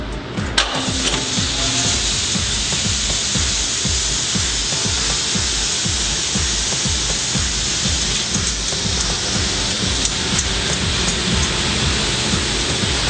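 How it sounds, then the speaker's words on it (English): A steady, loud mechanical whoosh of a kitchen range hood exhaust fan running continuously, broadband rushing air with a low rumble underneath and no voices. "That noise you hear is the exhaust fan running."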